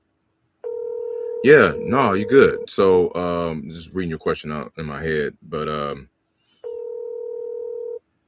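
A phone call plays a steady electronic dial tone at the start and again near the end, with someone talking over the line in between.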